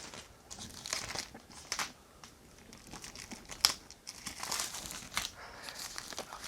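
Plastic shrink wrap is torn and crumpled off an Everdell Spirecrest and Bellfaire board game box, with close, quiet crinkling and small tearing rustles coming in irregular bursts and no talking.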